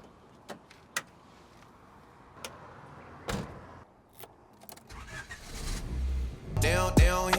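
A car fitted with a swapped Honda B17 engine sets off for a drive: scattered clicks and door thumps, then the engine starts and revs up loudly and near, building to acceleration at the end.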